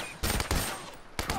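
Burst pistol fire in The Last of Us multiplayer, with two quick loud bursts and then a third after a short gap, close and sharp.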